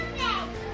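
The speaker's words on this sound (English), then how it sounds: "Kids playing." Children play and call out nearby at a winter camping spot in Iceland's Westfjords, their high voices briefly loud and close in a short burst.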